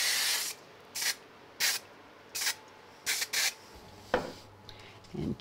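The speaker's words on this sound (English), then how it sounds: "using a little bit of spray glue again" Spray glue from an aerosol can is applied to a craft die piece in short hissing bursts, about seven quick close sprays in an uneven rhythm, then a few faint rubs and taps.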